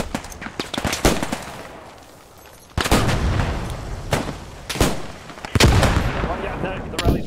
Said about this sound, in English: Tenemos por aquí mucho fuego de infantería.